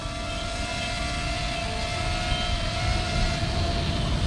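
A SHIFT RED DRONE lifts off and flies near the sea in worsening weather, its propellers giving a steady, continuous whine with a faint high tone that holds throughout, loud and close with no talk.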